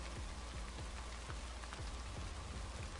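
Steady rain falls in the video game Raison d'être, a dense continuous hiss with scattered low patters of drops, even and unbroken throughout with no voices.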